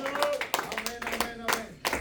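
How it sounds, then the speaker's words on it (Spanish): A church congregation claps for Jesus Christ during a sermon, scattered sharp claps landing unevenly over sustained singing or voices, all fairly faint. "denle ese aplauso al Señor Jesucristo"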